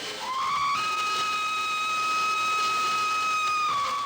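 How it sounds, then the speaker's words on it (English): Orient Express steam locomotive blowing a long, loud, steady whistle with a hiss of steam as it departs Paris for Istanbul in 1983; the tone holds strongly for several seconds before fading. "The steam locomotive's boiler running hot"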